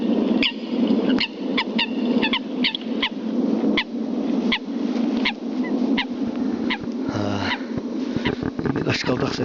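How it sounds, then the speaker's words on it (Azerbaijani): Recorded Eurasian coot calls played from a phone through a loudspeaker out on a lakeside hunting trip, giving repeated sharp, clipped honking notes in an irregular series, loud and close, with a voice talking between them. "İndi qaşqaldaq səsini qoşdum."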